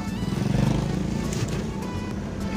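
A trail motorcycle engine revs on a long road trip, a close, throbbing low drone that pulses rhythmically and swells, then settles into a steady running rumble.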